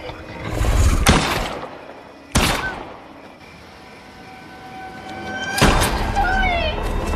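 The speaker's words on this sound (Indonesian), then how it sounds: "terdengarlah beberapa kali suara tembakan" Several sharp gunshots ring out in a tense film scene, three loud cracks spaced a few seconds apart over a low rumbling background with faint tones between them.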